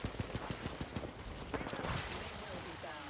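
Rapid carbine bursts in the Apex Legends battle royale, a quick run of sharp shots in the first half that thins into scattered fire and game noise, with a voice talking over it.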